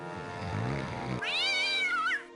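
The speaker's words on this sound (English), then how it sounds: "Who let that blasted cat in here?" A cat meows once in the Hidden Mysteries: Titanic game: a clear, rising and falling, drawn-out meow that follows a brief low rumble of background sound.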